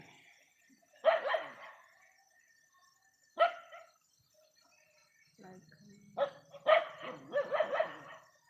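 Dogs bark at night in a village, a few sharp bursts spaced apart with a longer cluster of barks near the end, fairly close, while a voice speaks in between.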